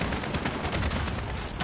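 Gunfire in a video game, a short, loud burst of dense shotgun blasts with no talking over it.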